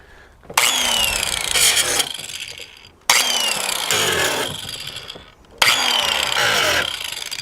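An angle grinder takes rough burrs off the back of a metal pool wall during a skimmer repair-plate fix. Three separate loud bursts each start sharply and then wind down, with short pauses between them.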